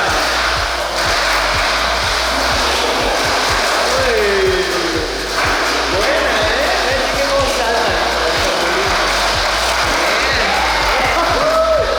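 Tamiya Mini 4WD toy race cars whir around a track at a Mexico City race, a steady high-pitched electric motor buzz with rhythmic clicks as they lap, loud and continuous with crowd noise behind.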